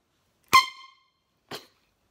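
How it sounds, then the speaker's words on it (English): A sharp, loud air horn blast followed a second later by a shorter, weaker toot, then silence. "Found this air horn."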